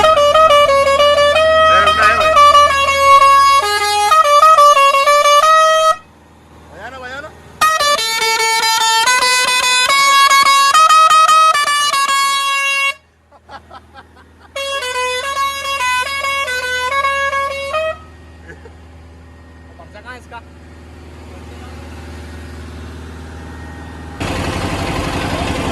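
A pressure horn fitted to an Eicher BS6 truck blares loudly in long melodic tone sequences, broken by short pauses, with an engine idling underneath.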